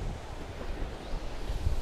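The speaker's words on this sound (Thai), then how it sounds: "คือลมเย็นสบายอ่ะทุกคน" Cool breeze blowing across the seashore at Khanom–Sichon in Nakhon Si Thammarat, Thailand: a steady, soft low rumble of wind buffeting the microphone with a faint wash of surf underneath, no voices.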